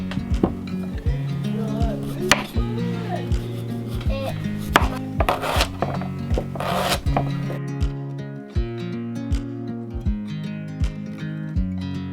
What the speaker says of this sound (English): I'll get to work chopping and whatever else.